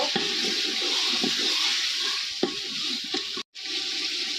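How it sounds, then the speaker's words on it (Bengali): Garlic paste sizzles and is stirred in a hot pan, a steady bright frying hiss with scattered scraping knocks of the spoon and a momentary cutout near the end. "রসুন পেস্ট ভালোভাবে নাড়িয়ে নেব"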